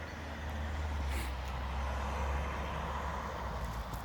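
A heavy truck pulling a trailer on a road in Norway rumbles past with a deep, steady engine roar and broad road noise, loud and close throughout.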